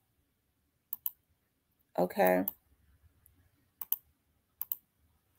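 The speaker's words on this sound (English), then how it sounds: "But I'm clicking on the wrong tab." Computer mouse clicks while switching between browser tabs, a few sharp isolated clicks around a short spoken word, followed by faint rustling.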